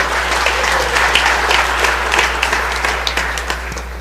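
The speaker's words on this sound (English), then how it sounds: "Y'all give her a round of applause." Audience applause fills the Mississippi House chamber, a steady clatter of clapping hands that holds for about four seconds with no voices over it.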